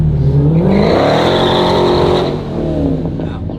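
A Dodge Hellcat Redeye's supercharged engine roars loud and close during a burnout, revving steadily with rising and falling pitch, with a faint tire squeal underneath.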